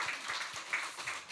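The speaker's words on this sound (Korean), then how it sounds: "오늘 수고하는 성가대 우리 경례 박수하겠습니다." Church congregation applauding the choir during a Sunday worship service, a soft, steady patter of many hands clapping at a moderate distance, fairly quiet throughout.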